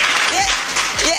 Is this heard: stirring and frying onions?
no